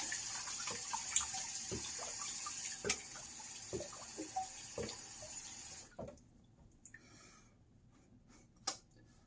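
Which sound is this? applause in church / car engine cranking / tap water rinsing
tap water rinsing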